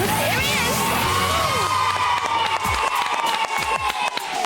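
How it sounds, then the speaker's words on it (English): A crowd of children cheers and whoops as the British Junior Karting Champion arrives, loud excited shouting layered with scattered clapping and rising voices throughout. "I want you to give him a big cheer as he comes in, please."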